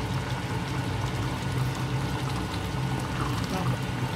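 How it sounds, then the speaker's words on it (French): Water is poured into a pot of cooking vegetables in a kitchen, a steady, moderately quiet splashing stream that runs continuously without a break. "je rajoute un peu d'eau pour que ça puisse cuire ensemble"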